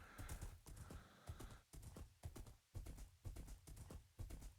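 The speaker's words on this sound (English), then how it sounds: "Go, horsey, go!" Horse hooves clip-clop in the Minecraft video game, a quick, even run of close, loud thuds that carries on without a break and has no speech over it.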